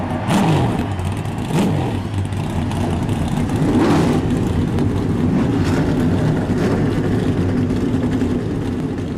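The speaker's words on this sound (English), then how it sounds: "Drivers, start your engines." NASCAR race car engines firing up in the iRacing video game, a loud, continuous roar of many engines with repeated revving swells, close and dense throughout.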